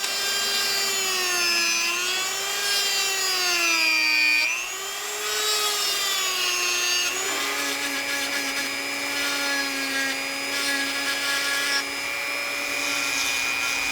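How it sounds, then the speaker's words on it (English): Dremel rotary tool shaping a knife handle scale, a loud continuous high-pitched whine that rises and dips in pitch as the load changes, running alone and close for the whole stretch. "I'm done with this one on the Dremel, and I'm gonna go to the next scale"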